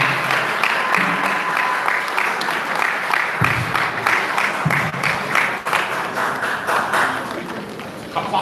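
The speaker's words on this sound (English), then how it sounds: "Please a round of applause for her." Sustained audience applause fills a hall at a Nigerian medical students' association meeting opening ceremony, steady dense clapping throughout with a few louder thumps.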